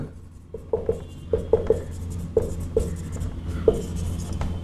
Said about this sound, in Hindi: इस बात को लिख लेते हैं